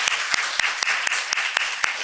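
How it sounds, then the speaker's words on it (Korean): A church congregation claps in unison to cheer on its evangelism team, sharp synchronized beats falling roughly every quarter second over a bed of scattered clapping, loud and close. "우리 한번 박수로 우리 응원할까요?"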